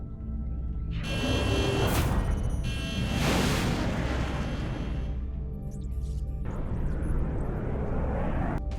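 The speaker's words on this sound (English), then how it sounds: "Let's launch Interceptor number 1 here and see how much damage we can do before we lose the jet." An interceptor jet launches in XCOM Enemy Within, a loud roaring whoosh of engine thrust and rumbling booms that surges, cuts off and swells again, with no talking.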